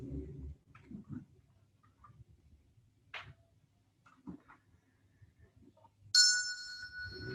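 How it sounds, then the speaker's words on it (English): A mindfulness bell struck once to close a meditation session, its clear metallic tone ringing out and sustaining after a stretch of near silence with faint rustling. "in a moment, I'll ring a bell and that'll end our short mindfulness practice"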